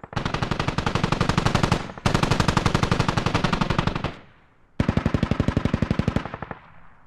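Long rapid bursts of heavy automatic fire from MT-LB armored vehicle guns in a military video game, three loud sustained volleys with brief pauses between them and no talk.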